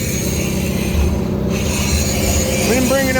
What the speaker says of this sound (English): So now we're using the welder to run the handheld grinder.